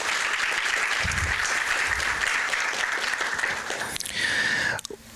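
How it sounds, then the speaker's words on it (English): Audience at a summit conference breaks into sustained, dense clapping that fills the room evenly for several seconds, then swells briefly and cuts off abruptly near the end. "Let's give Michael a round of applause."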